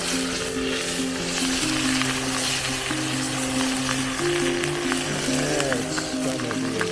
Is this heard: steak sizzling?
yes